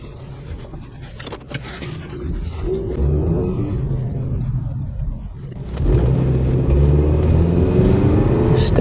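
A 2007 Honda Accord engine accelerating hard on a drive, the rumble rising and surging louder about two-thirds through as revs climb, heard up close with no talking.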